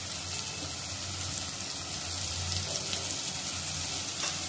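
Onion and tomato with a pinch of salt fry in a pan with a steady, even sizzle that hisses without a break throughout, close and fairly loud.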